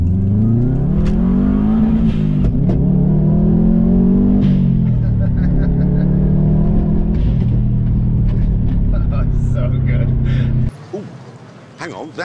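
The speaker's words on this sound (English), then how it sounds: "That is the throb of a turbocharged flat four engine." Turbocharged flat-four engine of a Subaru Impreza wagon, a loud, steady low throb that rises and falls in pitch over several seconds, then cuts abruptly near the end, leaving a quieter rumble.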